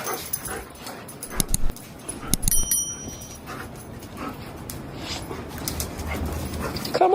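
Several dogs bark and whimper in quick, uneven bursts against a busy, noisy background, with some louder yelps partway through.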